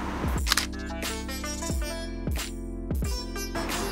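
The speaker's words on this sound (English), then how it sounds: "I'm gonna press my shutter, 2 second timer." A camera shutter fires on a two-second self-timer during night photography in Arnhem with a Nikon Z6 or D750, giving several sharp mechanical clicks over a steady hum.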